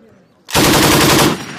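U.S. Marines firing an M240B machine gun, a single loud, close burst lasting under a second that starts abruptly out of near silence and cuts off sharply.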